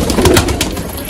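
Madrasi pigeons kept for flight training coo up close in a brief, loud burst of throaty, rolling calls with no voices.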